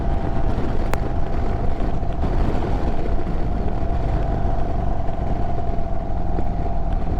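A Triumph T120 motorcycle engine pulls steadily at low revs, a continuous close, loud drone with a constant hum and heavy wind rush throughout, no talking.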